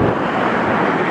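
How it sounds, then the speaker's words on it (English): Wind blowing outdoors at Los Angeles International Airport on a cold day, a steady broadband rush with constant buffeting against the microphone and no let-up across the short stretch. "Ooh, it's windy."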